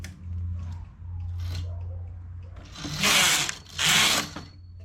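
Knitted work is pulled off a knitting machine, with a low steady mechanical hum followed by two loud rasping sweeps of the carriage or needles, close by.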